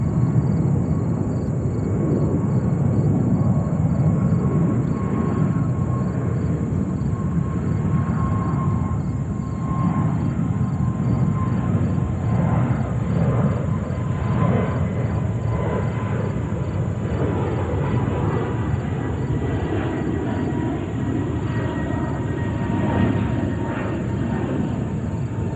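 JetBlue Airbus A220 at New York's JFK airport, a steady, loud broadband engine roar holding evenly throughout with no talk, close and continuous.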